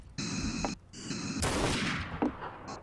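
Rapid bursts of gunfire ring out in an iNFILTRATION video game match, short volleys separated by brief gaps, followed by a louder crack and a stretch of continuous firing.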